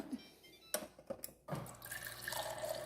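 A refrigerator's built-in water dispenser engages with a few sharp clicks, then water pours steadily from it into a container, a close, continuous splashing hiss with no talk.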